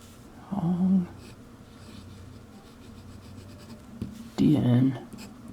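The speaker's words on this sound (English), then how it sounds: "I'm going to do a little bit of the writing test." A Hongdian 1861 Pro fountain pen scratches across paper in two short, close strokes, with faint background hum and a quiet gap between them.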